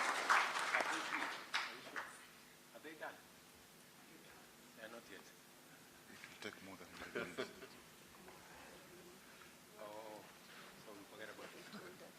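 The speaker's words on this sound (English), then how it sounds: "Let us give a better applause" Scattered applause at an economic dialogue event in Nairobi rises briefly and then thins into sparse clapping, heard at a distance in a reverberant hall while voices talk over it.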